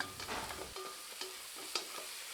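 Green chillies and ginger garlic paste being sautéed for kuska, with a spoon stirring and scraping the pan in several soft strokes over a quiet sizzle, fairly faint and close.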